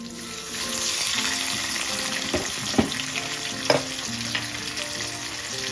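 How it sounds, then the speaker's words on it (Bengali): Tomato, ginger and chili paste frying in a kadai: a continuous close sizzle with a spoon clinking and scraping against the pan a few times, no talking. "এবার কড়ার মধ্যে টমেটোগুলোকে দিয়ে দেবো।"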